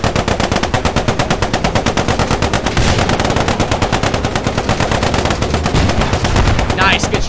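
Rapid, steady automatic gunfire rattles loud and close throughout a World War 2 tank battle in the Post Scriptum game, with a Cromwell tank in the fight and dense bursts barely pausing.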